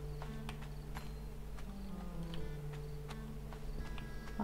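Bees buzzing in the video game The Magical Mixture Mill, faint steady droning tones with light ticking game sounds, quiet and continuous with no voices.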